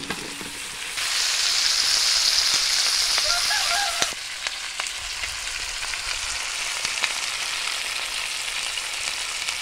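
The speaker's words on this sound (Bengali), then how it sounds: "স্বাদ মতো হলুদের গুঁড়ো দিলাম, পরিমাণ মতো লঙ্কার গুঁড়ো দিলাম, ভেজে রাখা আলুগুলো দিয়ে দিলাম।" Fried potatoes with turmeric and chilli powder sizzle steadily in a pan while a dahi chicken curry is being made, the frying hiss swelling louder after a moment and then easing to a softer crackle, with no voices.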